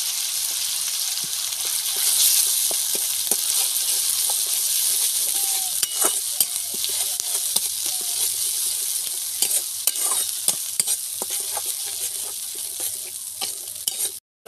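Poppy seed and green chili paste frying in a pan, a bright steady sizzle close by with frequent scraping and tapping stirs throughout, stopping abruptly at the end.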